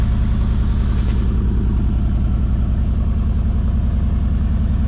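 A powerful Mercedes-AMG G63 V8 idles steadily, with a deep throbbing rumble that holds constant close by and no voices.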